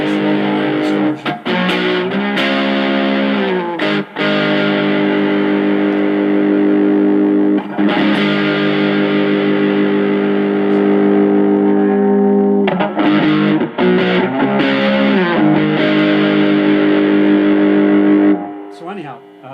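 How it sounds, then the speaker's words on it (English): Electric guitar through an Acoustic G60T tube amp set for low-volume distortion: loud, thick overdriven chords ringing out in long sustained blocks with brief gaps and quick strums between, fading out at the end, without any voices. "low volume distortion."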